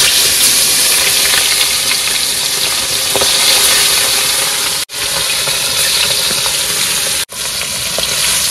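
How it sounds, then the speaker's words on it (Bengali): Fish frying in hot oil gives a loud, continuous sizzle and crackle close up, broken twice by brief silent gaps, with no voices. "এর ফাঁকে মাছটা ভেজে নেবো"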